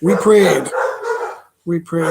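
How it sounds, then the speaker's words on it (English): Pit bulls bark downstairs in a house, several loud barks in two bursts separated by a short pause, with a voice talking over them. "you can hear the pit bulls downstairs"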